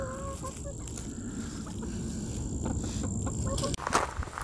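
Backyard chickens clucking softly while pecking at a pumpkin treat, scattered low calls and a few higher squawks over rustling, with a brief louder knock near the end.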